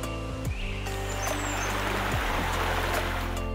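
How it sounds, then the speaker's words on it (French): Steady rushing water from a waterfall in the Ranomafana rainforest of Madagascar, a continuous broadband roar, fairly close, with a low engine-like hum in the background and no talk. "Là on est en direction d'une cascade,"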